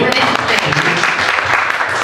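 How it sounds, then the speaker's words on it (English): An audience claps for Palms Up Academy at a poetry Q&A event, a steady burst of applause with voices calling out over it. "Clap it up for Palms Up Academy"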